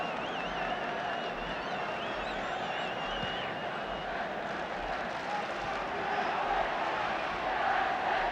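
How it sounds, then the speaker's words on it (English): Dense, steady roar of a football crowd getting behind Manchester United against Bolton, a continuous broad wash of cheering and chanting that swells slightly toward the end. "The crowd now beginning to get behind United."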